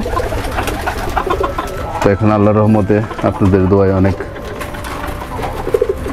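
Pigeons in a loft coo loudly in repeated rolling bursts that stand out mid-clip, while someone talks over and around them.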